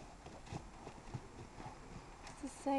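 Horse hooves clip-clop at a steady walking rhythm, moderately close, with faint voices and background noise around them and a brief tonal sound near the end.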